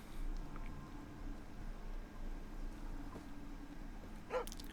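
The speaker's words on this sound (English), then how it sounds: "It's a dog. Can you pet the dog?" A dog in a video game, played live at an E3 event, barks and whimpers faintly and far off under a low background hum, with one brief sharper yelp near the end.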